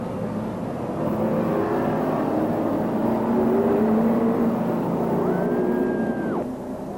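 Pro Stock race cars at Star Speedway in 1997 roar back up to speed on the restart, a steady, loud, dense engine drone that swells slightly and holds throughout.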